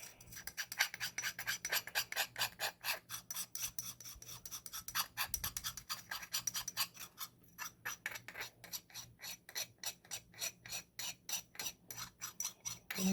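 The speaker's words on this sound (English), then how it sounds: "let's scrape the sides of my container" A tool scrapes repeatedly against the sides of a container of mixed eyeshadow, harsh rasping strokes in a fast, steady rhythm, close and loud.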